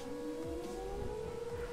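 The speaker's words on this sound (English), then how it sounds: "you can hear the, tornado siren at the National Weather Service going off" A steady, wailing tornado siren in Minecraft holds over a low engine-like rumble, continuous and moderately distant, with no voices.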